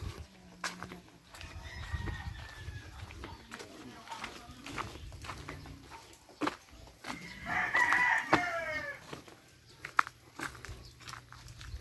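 A rooster crows once in a rural yard, fairly clear but not loud, amid quiet background noise, scattered clatter and distant voices.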